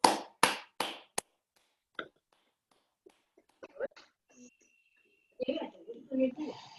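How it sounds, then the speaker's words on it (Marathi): Four sharp claps ring out together in a quick sequence, led by a single sharp initial burst, after a group meditation session, then fade into quiet shuffles and scattered murmuring voices. "आपण टाळ्या वाजवून आनंद व्यक्त करूया"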